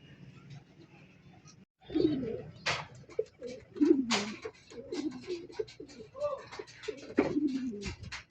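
Racing pigeons at a loft during a first training session in Sta. Rosa, Laguna, cooing and fluttering close by in repeated bursts while someone talks over them.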